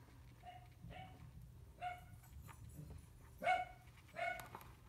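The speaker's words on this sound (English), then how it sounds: "Excuse the dogs in the background." Several dogs bark in the background indoors, a handful of separate yips and woofs scattered across a few seconds, fairly faint against a low steady hum.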